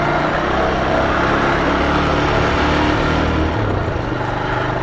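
A 1989 Suzuki GS125 motorcycle pulls away in first gear, its small engine giving a loud, close, steady buzzing drone that shifts slightly in pitch as it moves off.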